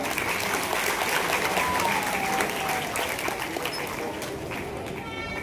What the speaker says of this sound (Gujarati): એવા શૈલેષ સર માટે પણ જોરદાર તાળીઓ થઈ જાય.